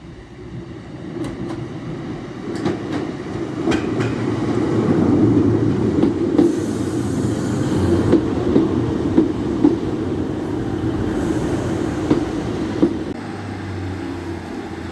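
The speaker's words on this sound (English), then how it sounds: "Classic 150, about to head into the tunnel at Knaresborough." A Class 150 diesel train runs close by near Knaresborough, heading toward the tunnel by the viaduct, a steady loud rumble with rhythmic clicks of wheels over rail joints building and fading over about fifteen seconds.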